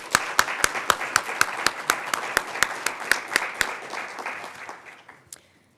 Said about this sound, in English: Please join me in a round of applause for their partnership.